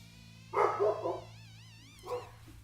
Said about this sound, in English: Stop the barking. I'm busy.